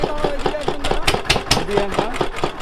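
A steady boat engine drones close by on a Sundarbans trip, with people talking loudly over it throughout.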